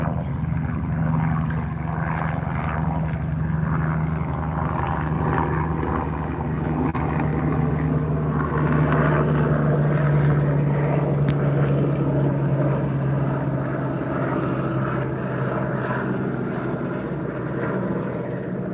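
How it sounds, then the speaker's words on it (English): A helicopter flying overhead above a canoeist on the water, a loud, steady rotor and engine drone with a sustained low hum holding for the whole stretch, no voices. "Loud helicopter."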